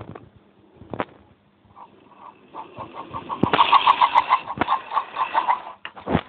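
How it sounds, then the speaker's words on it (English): A 1976 Hornby Tri-ang R759 Albert Hall model locomotive's tender sound unit gives a faint, rapid, rhythmic chuffing over a small motor whirr, close up, with a few handling clicks and no talk. "the old Hornby Triangle locos from the 70s had a steam exhaust sound unit fitted in the tender"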